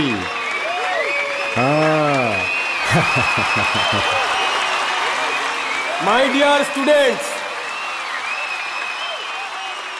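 Hands clap in a classroom in short rhythmic bursts, heard beneath and between raised voices.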